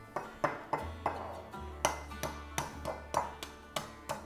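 A toddler cracks an egg into a cup, heard as a series of about ten light, close taps and clicks at a steady uneven rhythm, with a low hum underneath.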